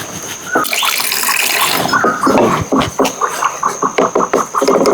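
Water is poured into kithul flour in a bowl and stirred by hand, a splashing pour followed by a run of quick rhythmic sloshing strokes, close up.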